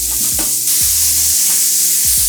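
Shallots sizzle loudly and steadily in a hot pan, a bright close frying hiss with low mechanical humming tones underneath and no talk.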